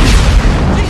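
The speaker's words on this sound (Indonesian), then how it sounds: "akhirnya ia meledakkannya" A minivan blown up in a zombie film, heard as a loud, dense boom with a sustained rumble that fills the full second, close and overpowering.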